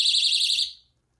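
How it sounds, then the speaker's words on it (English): A cheap battery-powered window and door alarm blares a piercing, warbling high-pitched tone up close, then cuts off abruptly after under a second, leaving silence. "It's basically a window and door alarm. And they send off a pretty high decibel,"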